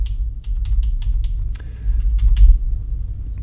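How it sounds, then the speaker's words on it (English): Computer arrow keys are tapped in a quick irregular series of light clicks during graphics editing, close and clear over a low background hum. "I'm going to click on this and I'm going to use my arrow keys."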